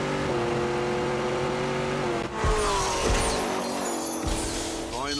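The Exorcist car, fitted with a Corvette Z06 engine, holds a loud steady engine drone, then surges as it launches into a hard rising rev, close and powerful, with a faint voice partly under it.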